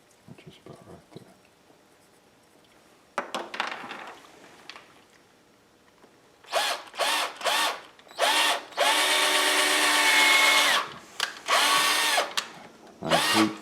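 A chuckless power drill bores into a bear claw, its whine coming in short bursts that build to a long sustained run, close and loud, with a quieter scraping start and a final brief burst.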